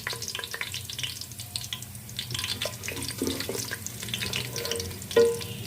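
Whole garam masala spices fry and sizzle in hot oil for haleem, a steady crackling hiss close to the pan with scattered pops and a brief stir or clink near the end.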